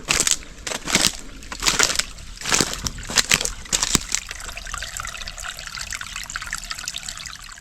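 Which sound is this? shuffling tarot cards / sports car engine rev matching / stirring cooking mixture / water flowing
water flowing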